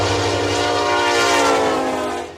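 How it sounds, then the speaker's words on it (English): A train sound effect plays loud and close: a sustained, steady horn with rumbling wheels beneath it that holds for a couple of seconds before tailing off, with no voices over it. "We wanted to hear the train."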